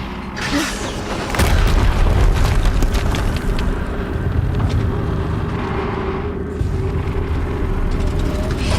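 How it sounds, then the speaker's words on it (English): In Horizon Zero Dawn, a video game, a deep booming explosion erupts about a second and a half in. A loud, low rumble follows and lingers beneath mechanical, vehicle-like noise until the end. "Another explosion."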